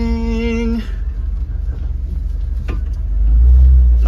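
A 1957 Chevy wagon rolls along on its first drive in 20 years, its engine a steady low rumble that swells louder toward the end.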